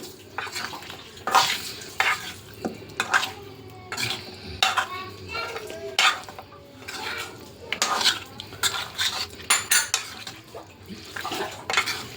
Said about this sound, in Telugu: చేతితో కలిపితే కారం మండుతుంది నాకు, అందుకని స్పూన్తో కలుపుతున్నా